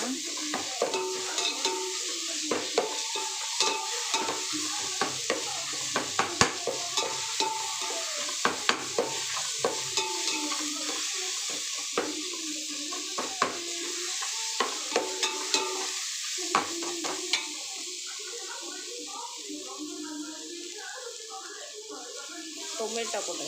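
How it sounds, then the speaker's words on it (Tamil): Ginger garlic paste sizzles and is stirred in a pan while cooking for biryani, with steady frying hiss and repeated spatula scrapes and clinks throughout. "இஞ்சி பூண்டு பேஸ்ட் ஃப்ரெண்ட்ஸ். அடி பிடிச்சிக்காத நல்லா கலரலாம்."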